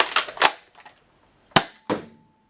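An Aeon Pro toy dart blaster loaded with a Mega Dart gives four sharp plastic clacks close up: two quick ones, a faint one, then two more after a short pause.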